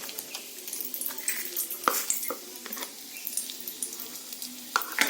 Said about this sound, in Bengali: এটা আমি তেলের উপরে ফোড়ন দিয়ে দেবো